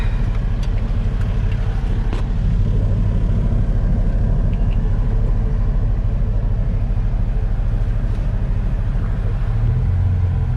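Low, steady engine rumble fills the cab of a bagged Chevrolet SS clone pickup truck on the move, a loud continuous drone with faint rattles and no voices.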